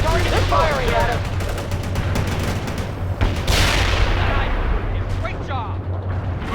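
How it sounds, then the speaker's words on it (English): Battlefield gunfire and artillery in the real-time strategy game World in Conflict crackle and boom continuously, with rapid shots and heavier blasts mixed under voices talking. "Enemy target is firing at us."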